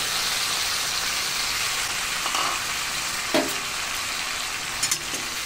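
Fried raw mango stirred in a pan with sugar and a little water, giving a constant loud hissing sizzle with a few soft scraping knocks of the spoon.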